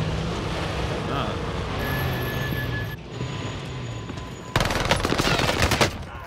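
A vehicle-mounted machine gun fires in a video game, breaking into loud, rapid, close bursts near the end after a stretch of rumbling engine and game background noise.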